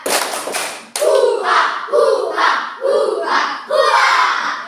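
A class of schoolchildren claps the rhythmic Indonesian 'tepuk semangat' spirit clap in unison, with several loud, evenly spaced bursts of clapping and shouted chanting close by.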